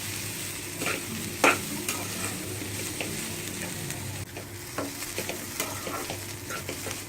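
Vegetable momo filling with cabbage fries in a pan: a soft, steady sizzle runs throughout, with occasional scraping stirs and a sharper clink of the utensil against the pan, all fairly quiet and close.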